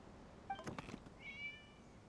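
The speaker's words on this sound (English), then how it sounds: "It was just a cat." A cat meows in a video game festival story quest, a faint pair of short meows in the background with a brief rustle between them.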